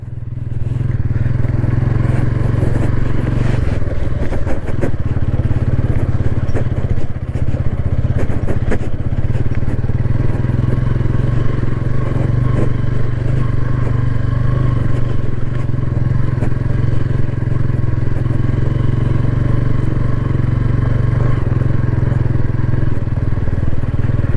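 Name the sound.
motorcycle engine and exhaust while riding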